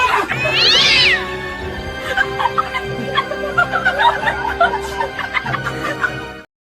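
A cat meows in a funny clip with an added sound effect: a rising, wavering meow opens, then comes a busy run of chuckling, snickering sounds with music or effects underneath.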